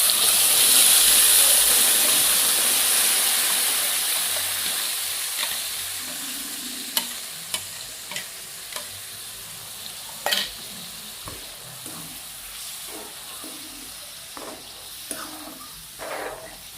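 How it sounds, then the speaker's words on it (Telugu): Bitter gourd curry gravy thickened with tomato paste simmers and sizzles in a pan. A loud hiss at first fades to gentle bubbling, broken by scattered clinks and pops. "చూడండి గ్రేవీ అయితే ఇలా మసులుతుంది."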